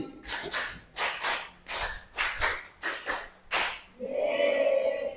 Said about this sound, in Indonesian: tepuk tangan untuk Bapak Ibu semuanya